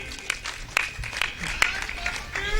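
An audience claps in bursts at a Republic Day poetry recital of a kavi sammelan, a scattered but lively applause mixed with voices.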